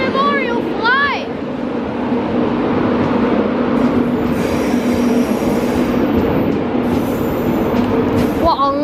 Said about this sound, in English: In comes 91 Battle of Britain Memorial Flight.